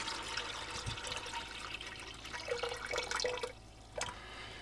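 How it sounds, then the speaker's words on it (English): Water pours from a jug into a Berkey gravity filter, a quiet, close trickle and splash with a few drips, heard alone without speech. "in the water jug, I just pour into the Berkey"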